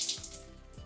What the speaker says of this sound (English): I'm going to apply just a smidge bit more water